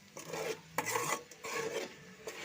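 Egg curry is stirred in a cooking pan, giving close, scraping, rasping strokes in uneven bursts with short pauses between them and no talking.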